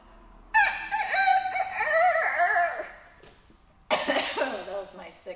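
A person imitates a rooster crow with a rising and falling vocal call, a short pause, then a second crow-like burst, loud and close in an indoor children's church lesson.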